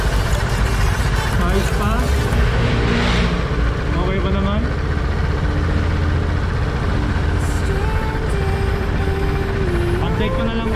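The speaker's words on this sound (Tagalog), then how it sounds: "Soundcheck yung sunog ng motor." Kymco Like 150 scooter engine with a suspected burnt motor, idling steadily and close by after engine speed adjustment, a continuous low hum through the whole stretch while someone talks over it.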